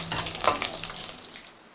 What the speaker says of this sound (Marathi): आपण 3 सुक्या लाल मिरच्या आणि 2 हिरव्या मिरच्या तेलामध्ये घालणार आहोत आणि थोडेसे परतून घेणार आहोत